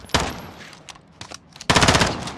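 Loud bursts of rapid gunfire in Call of Duty: Modern Warfare (2019), one short volley followed by scattered shots and then a heavier sustained burst, close and sharp.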